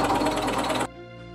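A drill bores into a workpiece at 500 rpm, a loud rapid rattling buzz that cuts off abruptly under a second in, leaving a faint residual hum.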